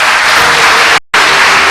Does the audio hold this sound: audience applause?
yes